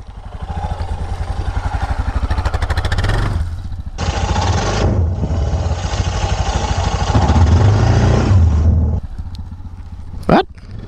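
A Suzuki DR650 dual-sport motorcycle revs its single-cylinder engine loudly nearby, rising and holding, with a brief sharp clank near the end and no talking.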